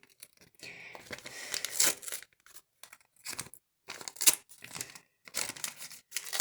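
A small paper surprise packet tearing open in several bursts with crinkly rustling between them, close by, separated by brief silent gaps.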